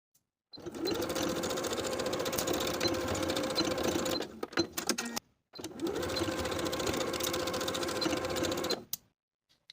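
A sewing machine stitches the edges of a denim skirt waistband with a 3/8 inch seam allowance, running in two long steady bursts separated by a brief pause, loud and close.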